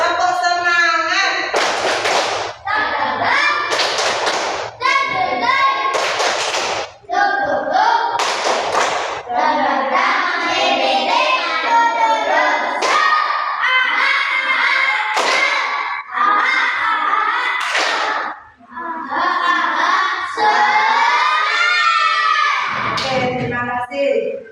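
A fifth-grade class performs a rhythmic spirit clap, tight patterned bursts of hand claps broken by brief pauses, mixed with chanting voices and steady tones, close and loud throughout.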